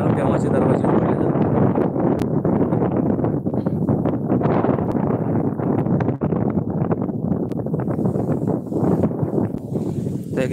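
Strong, continuous wind at Radhanagari lake roars across the microphone, a loud, unbroken rumbling buffet with gusty rustling texture throughout.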